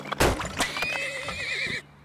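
A video game horse neighs in one clear, loud whinny with a wavering tail, preceded by a couple of sharp hoof-like clops, close and alone.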